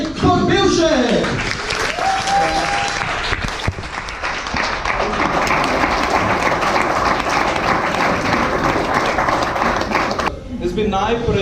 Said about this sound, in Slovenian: Dajmo mu en velik aplavz, no, da prihaja.